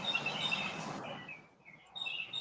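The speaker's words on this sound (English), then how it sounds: "I hear the birds." Small birds chirp and tweet in short high bursts outdoors, fairly close, with a brief lull before the calls pick up again.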